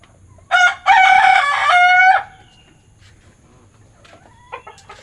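A pelung rooster crows loudly nearby, one long drawn-out call with a clipped start, followed by quieter clucks and faint bird sounds.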